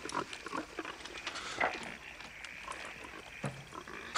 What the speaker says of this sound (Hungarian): Gyere, kis malac, gyere ide szépen.